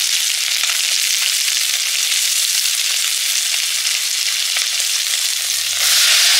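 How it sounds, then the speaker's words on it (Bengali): Black cumin seeds sizzle steadily in hot oil in a wok, a loud, continuous crackling hiss with no pauses, a brief low clunk near the end. "এক সাইড করে চাল কুমড়ো রান্নার জন্য তেলে দিলাম কালো জিরে"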